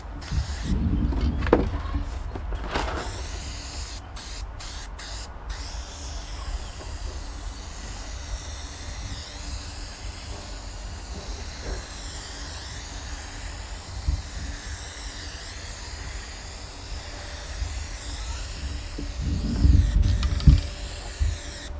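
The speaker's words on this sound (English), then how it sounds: "just start spraying your glue right on the back of that carpet" A long, steady hiss of aerosol glue sprayed onto the back of carpet runs on and on at close range, with brief mechanical clatters near the start and end.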